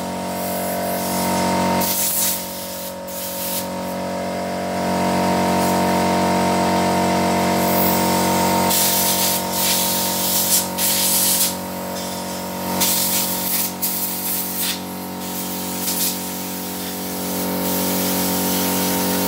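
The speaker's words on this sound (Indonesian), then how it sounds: "Untuk arah dorong memang sebenarnya harus disemprot dari bagian dalam keluar." Aerosol cleaner hissing steadily onto the throttle body of a Honda Revo Fi motorcycle, a long continuous close spray with brief dips and restarts, loud and uninterrupted by talk.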